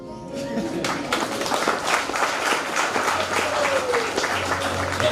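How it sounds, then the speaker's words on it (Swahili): Church audience clapping at a speaker's request, a burst of many hands applauding with loose irregular claps, mixed with voices and calls in the room. "nataka kuomba mnipigie makofi"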